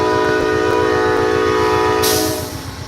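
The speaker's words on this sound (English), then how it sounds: "That is the warning whistle." Horn of an Amtrak California Zephyr passenger train at a station stop in Ottumwa, Iowa, blaring a loud, steady multi-tone warning blast over rumbling rail noise, with a hiss rising near the end as the sound fades slightly.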